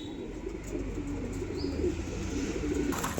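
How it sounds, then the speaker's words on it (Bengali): Andhra pigeons coo softly in a loft in Kolkata, with repeated low, throaty calls and a few light chirps over a quiet background. "কোয়ালিটি দেখুন জোড়াটার, দেখেন কতটা ছটপটে পায়রা।"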